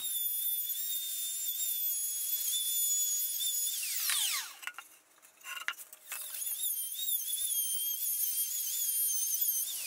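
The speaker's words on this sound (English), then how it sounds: "I'm going to chamfer the corners and also sand the surface a little bit." High-speed power tool chamfering corners and sanding a wooden panel for a Pantorouter stand, a shrill steady whine that dips and swoops in pitch midway as the tool engages the wood, then resumes.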